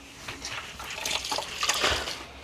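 Soapy water splashed and sprayed onto a greasy Maxx fan during cleaning, a close, wet hissing and dribbling that rises in irregular bursts over a few seconds, with no talk.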